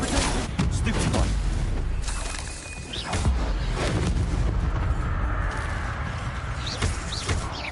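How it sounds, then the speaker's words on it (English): Stupefy spells and other magic being cast in Hogwarts Legacy combat on PS5, producing loud repeated booming bursts and crackling impacts in quick succession over a dense, busy battle soundscape. "Stupefy."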